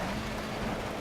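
Rain in Project CARS while driving a Mercedes 190E, a dense even wash of spray and droplets over a low engine drone, steady and unbroken across the moment.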